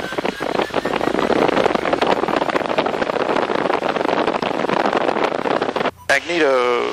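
A light aircraft engine runs up to 1700 RPM, giving a loud, steady propeller roar with wind buffeting the microphone and a short dropout near the end.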